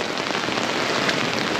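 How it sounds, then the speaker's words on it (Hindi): Heavy rain pours down steadily, a dense, continuous hiss of drops drumming on a surface with no pauses or voices. "बारिश तेज"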